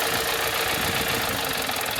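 A 2016 Kia Sorento engine idles with one ignition coil disconnected, a steady, close mid-range engine drone with a rough, uneven running texture and constant loudness throughout.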